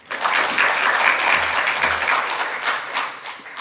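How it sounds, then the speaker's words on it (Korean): Audience applause for a speaker at the end of a water symposium presentation, a dense burst of many hands clapping that holds steady for several seconds and then thins slightly. "발표해 주신 임경재 교수님께 다시 한번 큰 박수 부탁드립니다"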